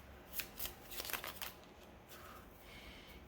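Tarot cards shuffled by hand, a few quick riffling bursts of papery flicks and slaps, then softer sliding, faint and close with no talking.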